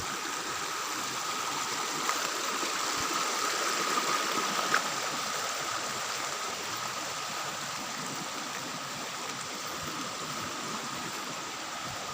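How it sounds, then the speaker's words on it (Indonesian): A steady rushing of the Cijalu river fills the background, a broad, even hiss with no voices, holding constant throughout. "Ini luar biasa, airnya cukup besar."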